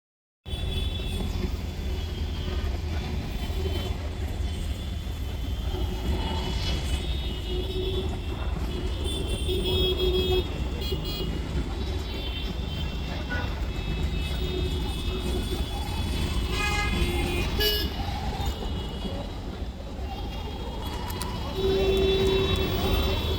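Riding in an auto rickshaw on a city commute home, a continuous loud engine drone and road rumble fill the cabin, with traffic noise and occasional brief tones over the steady roar.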